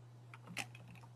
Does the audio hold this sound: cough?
no